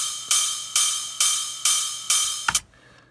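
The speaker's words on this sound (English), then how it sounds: "start to bring in some 909 rides to bring in some top end percussion" Five bright, hissy 909 ride cymbal hits land evenly on the beat, each fading quickly, followed by a short thump and a quiet tail.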